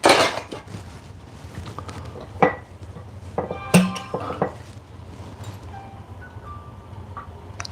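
Metal pizza tin handled on a kitchen counter before being oiled, giving a few sharp clinks and knocks around the middle, separated by quieter handling noise.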